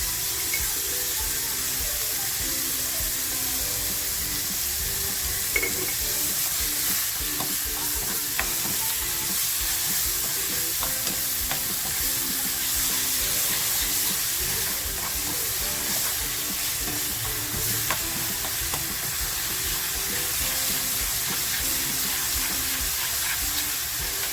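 Finely chopped tomato and browned onion fry in oil in a pan, giving a steady, close, continuous sizzle with faint stirring scrapes throughout and no talking.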